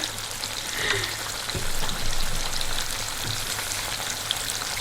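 Shrimp stewing in butter, shells on, sizzles and bubbles in a pot with a dense, steady frying hiss and scattered pops, close and fairly loud, with no talking.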